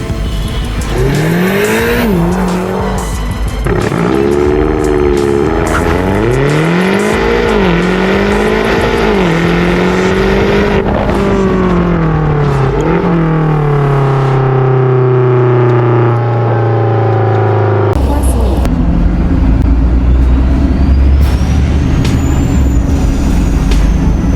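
Car engine noise with rising and falling pitch, tire squeal and crash-like bursts, loud and continuous for about 24 seconds, then a heavy thud and lower rumble near the end, no talk.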